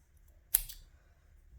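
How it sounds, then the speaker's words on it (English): A pair of scissors snips crochet yarn in a single quick, crisp cut, close and fairly quiet, followed by a short fading rustle. "I'm going to cut this off now"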